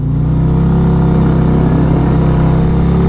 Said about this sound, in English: I'm just letting my clutch slip and drag there as I get going.